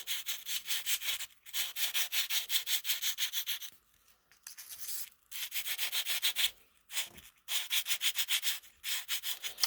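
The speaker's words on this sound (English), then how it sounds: "I'm going to give it a buff with some very fine sandpaper" A furnace part is buffed with very fine sandpaper in short, rhythmic rubbing strokes, close and fairly quiet, in bursts separated by brief pauses.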